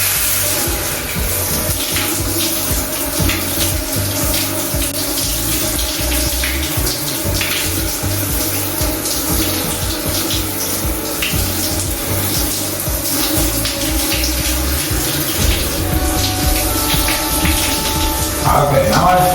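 A cold shower runs steadily throughout, a loud, constant hiss of spraying water with faint voice traces beneath and a brief clatter near the end.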